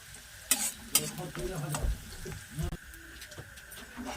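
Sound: frying onion and garlic for biryani

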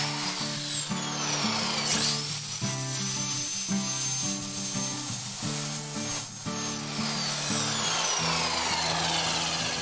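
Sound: power saw cutting wood at a 30-degree angle

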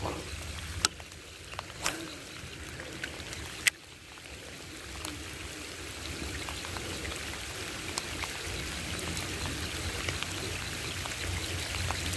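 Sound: rain falling

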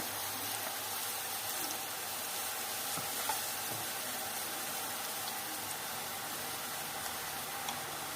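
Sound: boondi batter pressed through ladle into hot oil, sizzling

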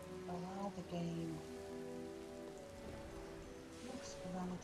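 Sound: rain in a flying video game

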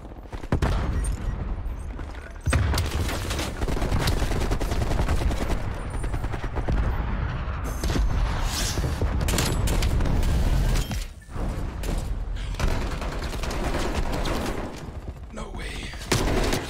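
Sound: gunfire in the video game Call of Duty Black Ops Cold War

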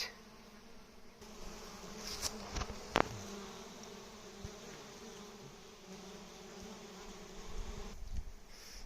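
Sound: honey bees buzzing at the hives

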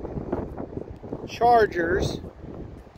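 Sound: wind blowing at a car dealership

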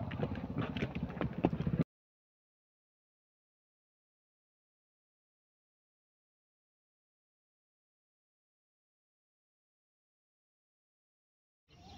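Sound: horse, a pregnant mare

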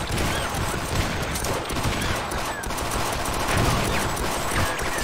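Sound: explosion in the video game Sven Co-op

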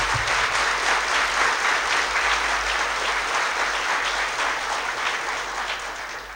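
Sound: audience applauding Dr. Rajiv Mehta

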